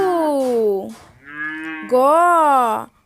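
Cattle lowing in several loud, drawn-out moos, with a cow and calf standing together; each call is long and tonal, one rising and falling, with a softer low call between them.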